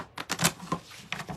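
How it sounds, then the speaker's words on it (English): A deck of oracle cards is shuffled by hand in several quick riffling bursts, close and crisp, with brief pauses between the rapid card flutters. "I will shuffle at least 3 times"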